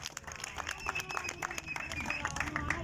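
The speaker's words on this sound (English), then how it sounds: "So please clap hands for yourself" Applause and clapping from a crowd at a CCC campaign rally for Marlborough ward 41 rise steadily under an amplified voice that keeps speaking over it.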